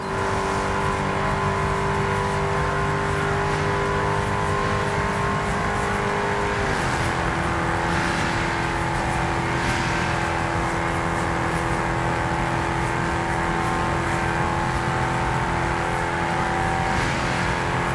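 Car engine in Test Drive Unlimited echoing through a tunnel, a steady loud roar with a revving drone and a pitch drop partway through, continuous for the whole stretch without talk.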